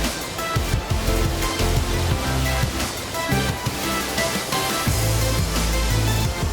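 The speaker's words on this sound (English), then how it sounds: "Look at the waterfall there." Roaring rush of the Gveleti waterfall in Kazbegi, Georgia, a loud, steady broadband torrent heard up close throughout, with no talking.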